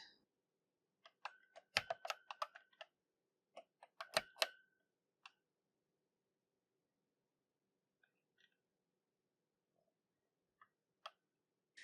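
Keys clatter on a computer keyboard while game controls for Chuckie Egg are remapped. Two quick flurries of clicks come first, then sparse, isolated taps, all faint and close.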